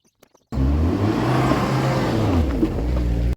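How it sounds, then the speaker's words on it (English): After a brief quiet moment, a Ford Mustang's engine starts and runs at a steady, deep idle close by, loud and continuous, with no one talking. "So I've been letting the car run like Ferris Bueller a while just to make sure it's not going to leak"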